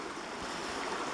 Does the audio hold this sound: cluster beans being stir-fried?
no